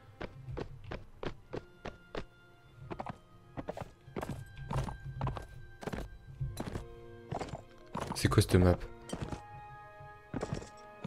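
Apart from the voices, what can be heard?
horse galloping in video game Mount and Blade Warband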